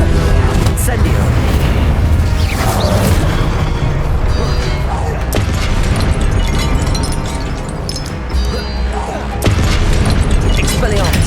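Incendio fire spell cast during the Pensive Guardian boss fight in Hogwarts Legacy, heavy booming blasts and bursts layered in dense, continuous battle noise while a person talks.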